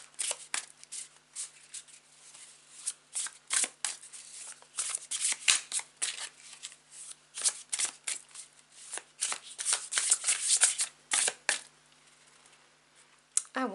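Tarot cards are shuffled and drawn by hand, producing close, crisp bursts of riffling and slapping card sounds in irregular runs, with brief pauses between shuffles.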